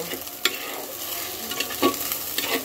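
Country chicken and new potatoes stir-fry in a pan with a continuous close sizzle and a few sharp scraping strokes of a spatula.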